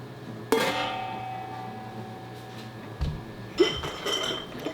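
Glass canning jars for pickles clink sharply against each other, one bright chime early, then a faint knock and a second cluster of ringing clinks near the end, close and clear in a quiet kitchen.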